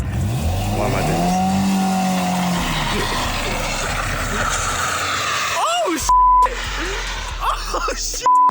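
An 80 hp front-wheel-drive car is pushed hard while drifting, its engine droning and revving as tires squeal, with people talking and shouting loudly over it and bursts of wind buffeting the microphone near the end.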